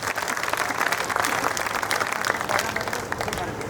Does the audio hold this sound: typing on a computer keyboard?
no